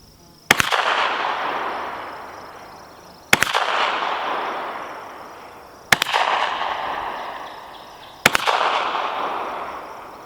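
Four loud carbine rifle shots ring out at steady intervals of about two and a half seconds, each a sharp crack followed by a long rolling echo outdoors.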